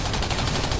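Dense, continuous gunfire from the video game Singularity, aimed at a pilot, fills the short moment at steady high loudness with no gaps and no talk.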